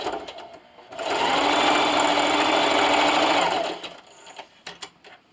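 A sewing machine stitches a plastic bag dispenser, running in a loud, close, steady whir for about three seconds before stopping, followed by a few soft clicks and handling sounds.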